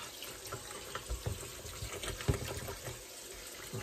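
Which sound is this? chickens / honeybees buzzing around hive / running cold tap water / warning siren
running cold tap water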